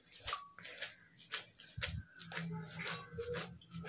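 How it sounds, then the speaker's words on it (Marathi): Boiled noodles for veg chow mein drained of their water, giving a wet, irregular run of splashes, drips and squishy pours at close range with no talk. "आणि ह्याच्यातलं पाणी आहे ते असं काढून घ्यायचं आहे"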